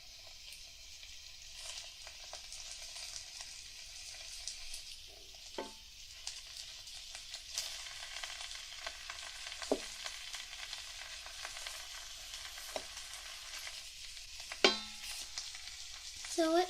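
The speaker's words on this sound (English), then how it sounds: "And there comes the sizzle." Food sizzles steadily as it fries in a pan, a constant hissing crackle broken by occasional clinks and scrapes of stirring.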